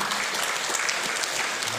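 A church congregation at a Sunday worship service cheers and applauds in a steady, full wash of clapping and voices lasting under two seconds.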